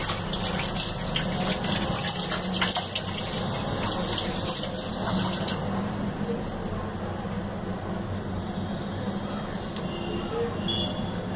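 Water runs steadily from a tap while a face is washed. A continuous close gush fills the whole stretch, and a voice can be heard faintly under it.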